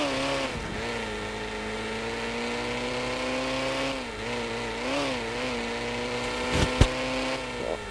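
Simulated car engine from the Car Simulator 2 video game, a steady continuous drone with rising and falling pitch as the car drives, plus a couple of brief sharp knocks near the end; no talking.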